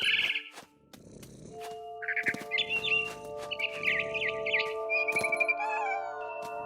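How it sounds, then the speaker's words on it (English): Barn swallow chirping near a nest in the video game What Remains of Edith Finch, a series of bright, quick tweets and trills close by over a low purring hum and soft rustles. "Then I heard chirping outside my window. It was a barn swallow going back to her nest."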